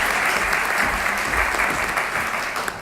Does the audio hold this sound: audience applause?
yes